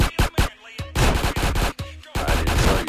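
Gunfire in Grand Theft Auto San Andreas Definitive Edition, loud repeated shots in several bursts, a few sharp single reports followed by longer rattling volleys, no talk.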